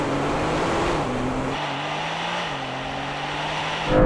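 A Porsche Turbo S and a Carrera GTS launch side by side in a drag race on cold tyres with stability control off, loud engines roaring steadily with shifting pitch as they pull away.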